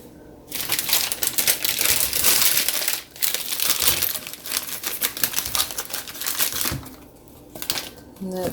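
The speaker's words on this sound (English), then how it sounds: "I'm going to lay a paper towel in there." A paper towel crinkles and rustles inside a small metal bowl while a fridge is being cleaned, in loud, close bursts of crackling with short pauses between them.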